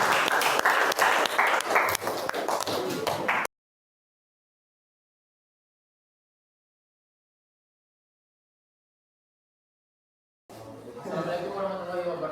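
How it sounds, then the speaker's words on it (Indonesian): A group of teachers in a classroom presentation session gives brief applause for group 5, a dense burst of clapping at the start that cuts to silence before a speaker begins talking. "kasih aplaus untuk kelompok 5"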